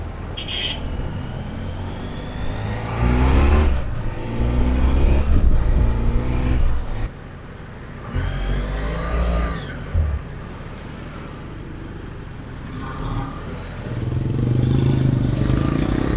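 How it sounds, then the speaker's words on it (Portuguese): Rush-hour car traffic crowds a street in La Paz, Bolivia, with engines passing and revving close by in uneven surges and a motorcycle-like whine among them. No one speaks. "Peguei o horário de pico aqui, ó. Carro pra caramba, meu."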